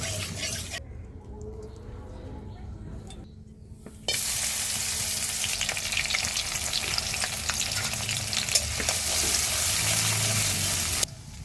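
Dried fish and garlic frying in a pan, a close, steady crackling sizzle that grows louder and denser partway through and runs on continuously with occasional stirring scrapes.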